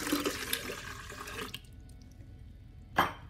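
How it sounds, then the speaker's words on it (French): Glass of lukewarm water set down and poured while making milk batbout bread rolls, a soft running-water wash that stops abruptly, followed by a quiet pause and a single sharp clink near the end. "je dépose le verre d'eau tiède"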